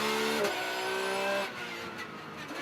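A Porsche 911 GT race car based on the 991.2 street car, heard onboard at NOLA in a GT World Challenge America race on a drying track, with a loud engine revving high and then dropping off as the driver lifts.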